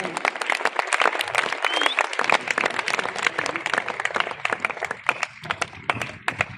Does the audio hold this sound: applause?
yes